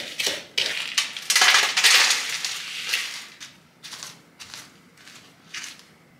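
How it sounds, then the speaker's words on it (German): Melted butter being stirred into crushed biscuits in a bowl, a series of close, gritty crunching and scraping strokes in uneven bursts with short pauses between them. "Gut durchrühren."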